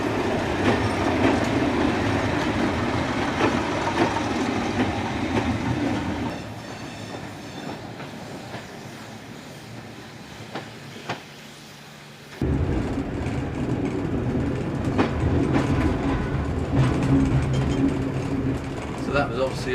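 Diesel multiple unit running along the Wensleydale Railway branch line, heard from the cab: a steady engine drone and rail rumble that eases off briefly before building again, with people talking over it.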